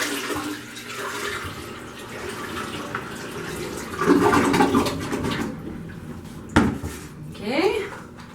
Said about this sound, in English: And then you just take your bucket and dump it in the toilet.